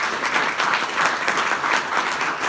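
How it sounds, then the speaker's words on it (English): Audience applause at a training event at National Harbor, a steady, dense wash of clapping from a crowd, loud and close throughout. "Give them a hand."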